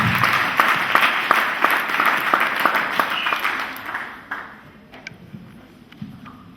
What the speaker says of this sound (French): S'il est bon, acclamez-le très fort.